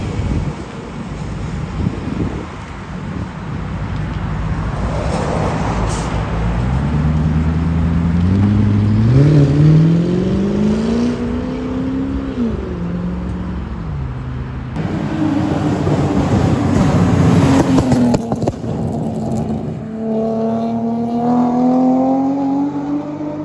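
Mercedes car accelerating hard nearby with the engine revving; a loud rising and falling engine roar with gear changes, buffeted by wind noise on the microphone, then a second strong pull toward the end.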